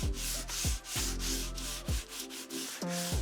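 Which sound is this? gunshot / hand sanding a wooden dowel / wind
hand sanding a wooden dowel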